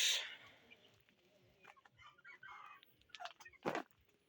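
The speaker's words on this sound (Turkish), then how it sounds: "Şurada mavici horoz var bir tane." Chickens cluck and a rooster calls briefly nearby, a few short sharp bird sounds over quiet background.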